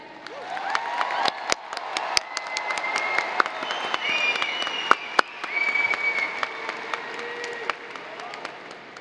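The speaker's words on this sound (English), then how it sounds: "let's all give a big round of applause for your Plano Lee's Class of 2023 graduates" Audience applause for the Plano East Senior High School Class of 2023 graduates at their ceremony, a broad patter of clapping with scattered sharp individual claps, some whoops and cheers, and a lull midway before it swells again.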